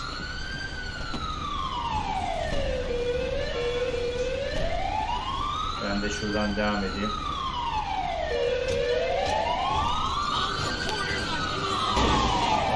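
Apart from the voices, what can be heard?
ambulance siren in video game GTA 5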